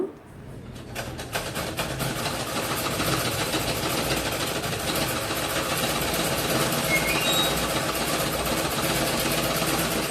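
A sewing machine stitches fabric at home, giving a steady, fast mechanical whir that starts after a moment and runs continuously at moderate volume with no voices.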